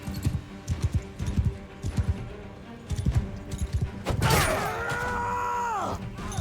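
A horse gallops in the video game Mount and Blade 2 Bannerlord, its hooves drumming in rapid rhythmic clusters. Near the end a louder clashing burst gives way to a sustained ringing tone.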